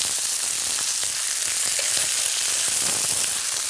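Pieces of chicken searing in a hot pan for an authentic Roman chicken dish, a steady dense sizzle and fry crackle filling the whole stretch, close and loud with no talking.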